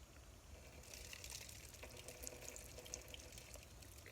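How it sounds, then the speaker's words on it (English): Half a cup of water poured into a plant pot, a soft, steady trickling hiss that starts about a second in and runs quietly to the end, with no talking. "I'm using the same half a cup of water, and I'm going to pour it in."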